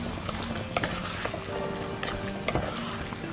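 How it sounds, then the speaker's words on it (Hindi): Mixed vegetables for pulao are stirred in a pot over the heat: an even sizzle close by, broken by a few sharp spoon clicks and scrapes against the pot. "सब्जियां मैंने इसमें सारी ऐड कर दी हैं।"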